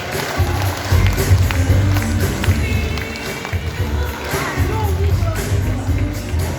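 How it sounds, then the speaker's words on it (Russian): Steady, loud applause from a stage show audience, a dense sustained roar of clapping with a low crowd rumble underneath. "Ваши аплодисменты, дамы и господа!"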